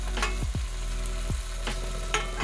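Garlic paste, ginger paste and chopped green chilli fry with onions for a duck curry, giving a steady close sizzle. A few sharp scraping strokes of a spatula sound against the pan.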